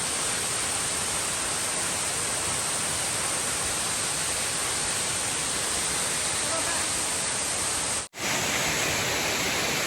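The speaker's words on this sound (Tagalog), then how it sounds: "Ang waterfall." A waterfall at Grassi Lake roars as a loud, steady broadband rush close by, briefly cut off near the end before resuming.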